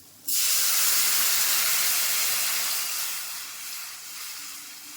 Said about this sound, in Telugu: ఇప్పుడు రసం పోసేసుకుందాం